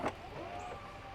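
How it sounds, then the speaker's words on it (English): The power rear hatch of a Hyundai IONIQ 6 whirs with a faint, steady electric motor hum after a soft click at the start, quiet and close. "Power rear hatch."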